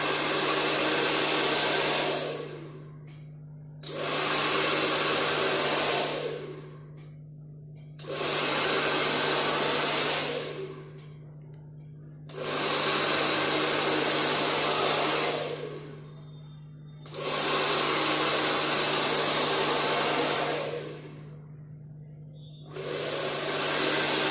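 A hair dryer blows on freshly washed hair worked through with a flat comb, loud steady roaring bursts of a few seconds each, switching on and off about five times, with a low constant hum underneath.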